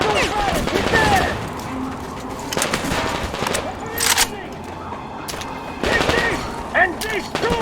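Gunfire in the video game Metro Exodus: several loud bursts of shots and volleys spread across the clip, with voices and bird-like calls in between.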